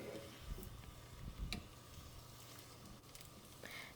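Eggs stirred and scrambled in a pan for a breakfast dish, with a soft continuous sizzle under gentle scraping and a few muffled spatula taps, close and low in volume.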